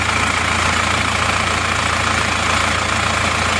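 A rough diesel engine in an Isuzu Panther idles steadily nearby, a constant knocking rumble with a harsh clattery edge and no change in pace.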